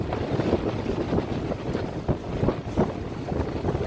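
A boat runs through Whirlpool Rapids at slack tide, with heavy, steady wind roar buffeting the microphone over rushing water, loud and constant without talk.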